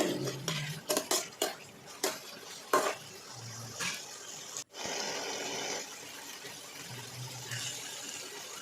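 Boiled potatoes being stirred into spice masala in a pan: a run of spoon clinks and scrapes against the metal, followed by a steady soft sizzle with a few more stirring scrapes, close and fairly quiet.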